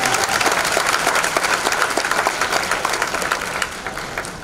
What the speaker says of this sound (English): So we ought to give Miss King one more big round of applause for her speech